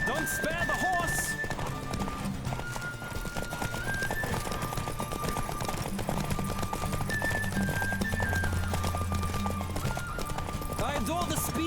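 Horse galloping with repeated hoof clip-clop and occasional neighs in The Witcher 3 video game, steady and close throughout, layered under sustained tonal game music.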